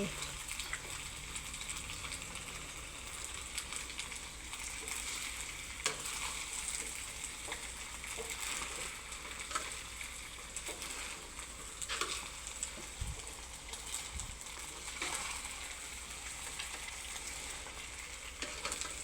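Wide rice noodles stir-frying in a hot pan as bean sprouts are tossed in for a vegetarian pad see ew; a continuous close sizzle with scraping and clattering spatula strokes, a voice talking over it.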